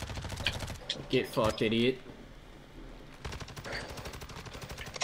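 Gunfire in Warzone 2: a rapid rattling burst of automatic shots rings out near and loud, then stops, with more firing resuming after a pause while players talk over it.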